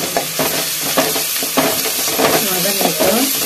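Ginger garlic paste sautéing in a pan for a soya gravy, loud and close, with a crackling sizzle and repeated scraping stirs of a spoon against the pan.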